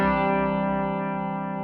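A single sustained guitar chord rings out through a Walrus Audio Julia chorus pedal with the depth turned all the way down, nearly dry with little movement, close and steady as it slowly decays.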